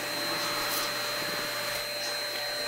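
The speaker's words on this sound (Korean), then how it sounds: "청소기 또 돌려" A vacuum cleaner runs steadily nearby with a constant high whine and a broad rushing hiss, joined by a few faint rubbing and scraping sounds, with no one talking.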